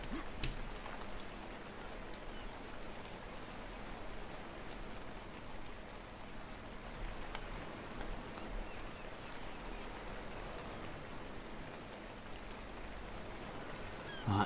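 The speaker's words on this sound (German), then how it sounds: "Was, es regnet?" Steady rain in the survival game ARK, a dense, even hiss of falling drops that holds at a constant low level for the whole stretch, with no voices over it.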